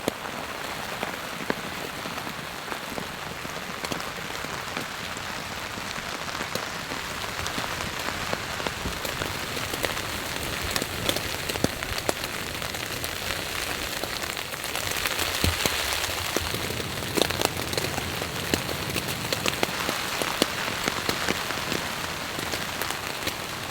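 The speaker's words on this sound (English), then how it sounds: "What a rainy evening, everyone." Heavy rain pours steadily on a surface, a dense, constant hiss with scattered louder drops, unbroken throughout.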